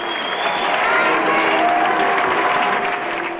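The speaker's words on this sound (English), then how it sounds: "The applause you hear is not coming from the Logionisti" Opera house audience applauding Luciano Pavarotti at the opening of the season before the President of Italy, a broad, steady roar of clapping from a large hall, with a sustained tone ringing through it.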